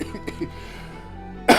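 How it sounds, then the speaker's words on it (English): A single sharp, close cough from a man at a microphone, following a few faint breathy throat sounds. "we've got to sort this cough out sometime soon"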